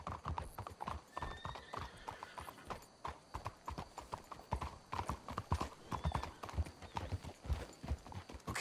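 Several horses' hooves clip-clop at a steady walking pace in the Red Dead Redemption 2 game world, a crisp rhythmic patter close by with an occasional snort or whinny and faint background ambience.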